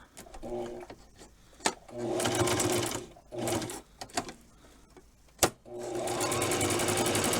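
A sewing machine stitching around Velcro on a Barbie doll dress, with several close, fast bursts of stitching separated by short pauses.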